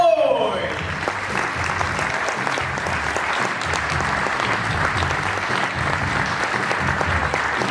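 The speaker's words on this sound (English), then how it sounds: "Round of applause once again, please," An indoor hall audience applauds at a 2016 Hall of Fame award ceremony for Chuck McCoy, a dense, sustained clapping that holds steady throughout.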